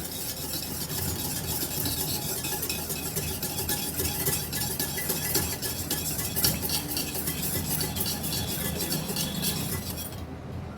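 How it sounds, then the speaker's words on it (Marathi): Curd whisked in a kadhai: a steady, continuous scraping and rubbing of a whisk against the metal wok, fairly close and unbroken for several seconds, stopping abruptly near the end. "दही व्यवस्थित आपल्याला फेटून घ्यायचे।"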